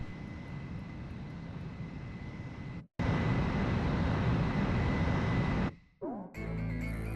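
Fighter jet engines in the video game Ace Combat 4 roar with a steady, loud whine, cut off abruptly twice by brief silences before resuming, then ending in a short swooping tone and a musical sting.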